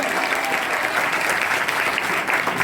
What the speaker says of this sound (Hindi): जोरदार ताली इनके लिए।